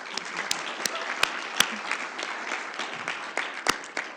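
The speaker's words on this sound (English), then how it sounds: "And can we give a round of applause for our candidates?" Crowd applause for school board candidates at a youth-led forum, a continuous patter of many hands with sharper claps standing out, steady and fairly quiet from start to finish.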